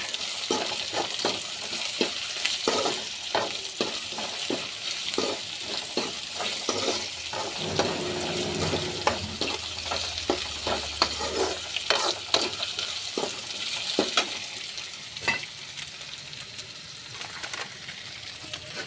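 Ivy gourd stir-fry stirred in a frying pan: steady oil sizzle with repeated scraping clinks of a spatula against the pan, close and continuous, no talking.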